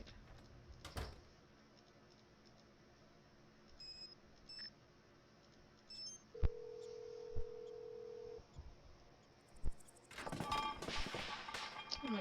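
A phone is dialed in the Nancy Drew: Trail of the Twister video game: scattered soft keypad beeps, then a sustained tone lasting about two seconds, and a burst of rapid clicks and tones near the end over quiet background hum.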